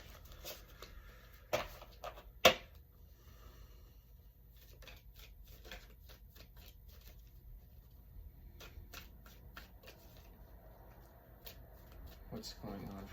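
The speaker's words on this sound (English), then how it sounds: "give it one more shuffle" Tarot cards are shuffled by hand in quick soft riffling patters and flicks, quiet and close, with a couple of sharper snaps, over a low background hum.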